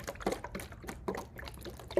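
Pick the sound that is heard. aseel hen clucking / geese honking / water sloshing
water sloshing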